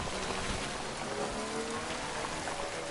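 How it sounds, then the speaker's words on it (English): Heavy rain pours down in the video game Death Stranding, a dense, steady hiss of downpour with fine spattering drops that holds at a constant level throughout, and no voices. "it's raining heavy"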